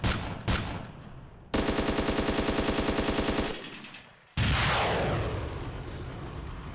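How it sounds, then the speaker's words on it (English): Vehicle gunner's weapons in ArmA 2 fire in a long, loud, rapid automatic burst between a few separate heavy shots, then a big blast tails off into rumble. "So we're going to go ahead and fire the gunner's weapons."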